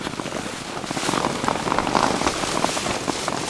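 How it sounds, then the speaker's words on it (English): Rain drums steadily on a minimalist MLD Cuben Trailstar shelter pitched on Dartmoor, a dense close patter of drops hitting the fabric that holds level throughout, with occasional louder splashes. "it's just around the edges where there's a few splashes of rain getting in."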